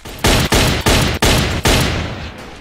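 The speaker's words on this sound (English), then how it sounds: "I shot him 5 times." Five loud, close gunshots ring out at an even pace in the Roblox game Ostfront 1941-1945. Each blast is sharp and sustained, with a short reverberant tail before the next one, and the last shot fades away.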